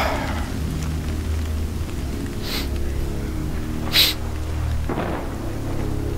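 Steady nighttime rain in the video game Middle-earth: Shadow of Mordor, a constant hiss over low rumbling thunder, with a few sharper splashing bursts standing out.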